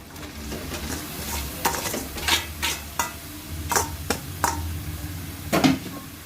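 Cabbage stir-fried with spice paste in a pan, with repeated scraping strokes of a spatula against the metal over a soft steady sizzle, close and moderately loud.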